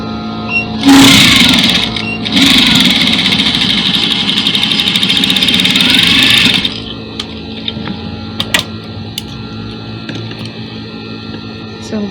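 A sewing machine runs a lock stitch on a dress in two loud, close bursts with a short pause between them. It then stops, and a few light clicks and handling taps follow.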